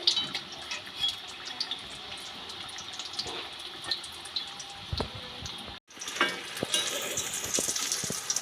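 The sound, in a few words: snacks frying in oil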